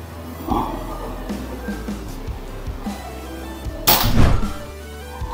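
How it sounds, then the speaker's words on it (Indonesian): A PCP Predator Galaxy Tactical air rifle fires one sharp, loud crack during accuracy testing, preceded by a fainter thump and quiet outdoor background. "Tembakan ke-8."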